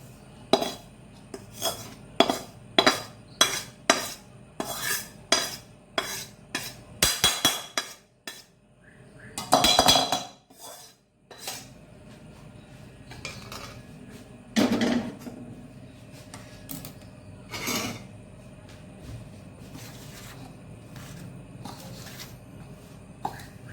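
A spoon clanks and scrapes against a pan while wheat flour is stirred for ladoos, a series of sharp metallic knocks and rasps with pauses between, close and fairly loud.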